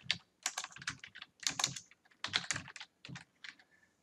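Typing on a computer keyboard while entering code, a quick irregular run of crisp key clicks in short bursts with brief pauses, close and clear with no talking.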